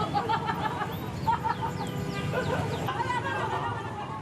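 Chicken clucking on a Lombok island setting, short repeated clucks and squawks fairly close over a busy background of outdoor chatter and noise.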